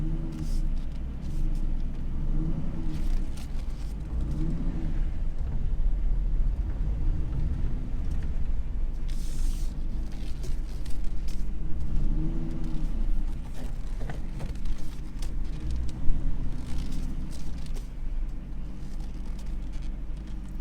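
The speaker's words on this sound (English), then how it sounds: "there's a Cobra R ride" A rare 2000 Ford Mustang Cobra R, one of only 300 built, heard from inside while riding: a continuous low engine rumble with swelling revs and road noise, loud and steady with no talk.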